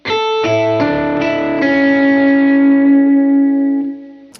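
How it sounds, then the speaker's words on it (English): A clean-toned electric guitar on the neck pickup, volume rolled off, picks a few notes and lets a chord ring out with reverb, slowly fading to silence. "I can just roll off my volume, switch over to my neck or my middle pickup, and it cleans up"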